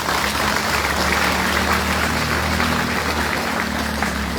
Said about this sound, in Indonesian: Kita tepuk tangan untuk itu.